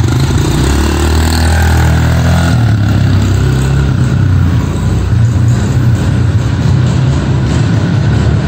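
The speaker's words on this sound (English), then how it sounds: "we're going to take a motorcycle, we're going to drive it through a huge book poster" A motorcycle engine running steadily as it drives at a book launch stunt, a loud continuous rumble with a slight change in pitch partway through and no speech.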